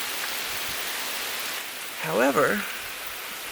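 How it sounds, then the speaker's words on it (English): Rain falling steadily in the Great Smoky Mountains near a cave, a constant hiss throughout, with a person speaking briefly over it partway through. "it started raining right as we were passing like this cave"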